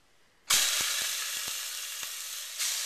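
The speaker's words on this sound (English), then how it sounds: "Lovely sound of searing." Chuck roast dropped into hot olive oil in a pan bursts into a loud, sustained sizzle, with a few soft taps as the meat settles and a fresh surge of hissing near the end.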